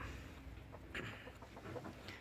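A fighting rooster kept under a woven cage basket beneath a raised hut gives a few soft, scattered clucks, faint and low.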